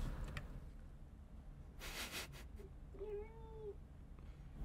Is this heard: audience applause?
no